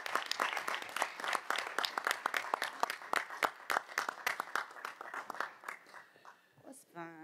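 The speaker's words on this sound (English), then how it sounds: "one more round of applause for these fine young people" Round of applause at a school board of education meeting, individual claps clearly separated in a brisk, somewhat sparse rhythm from a modest crowd, trailing off at the end with a brief voice.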